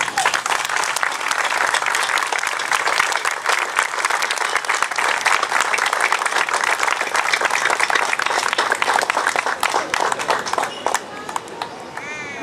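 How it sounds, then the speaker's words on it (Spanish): An audience at an outdoor Memory Day commemoration for truth and justice breaks into sustained, loud applause, many hands clapping densely for several seconds before thinning out near the end. "un gran aplauso para ellos."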